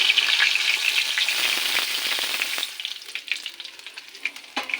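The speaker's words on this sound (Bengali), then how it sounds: "এই মাছগুলো ভাজা হয়ে গেছে, এবার তুলে নেব" Tilapia fish frying crisp in hot oil sizzles loudly and steadily up close, then thins into sparser crackles and pops.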